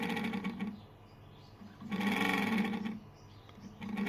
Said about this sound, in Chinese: 这风扇噪音也太大了吧！